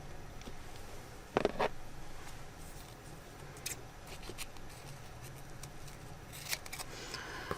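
Scissors snip and cut close by in short crisp bursts, a couple of louder snips early on, then scattered lighter cuts over quiet room noise.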